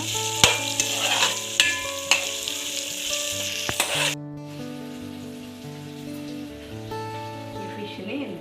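Tomato and ginger paste fries in a pan for a red-chili fish curry, a crackling sizzle broken by several sharp spoon taps and stirs. Partway through the frying fades to a quieter background with faint tones.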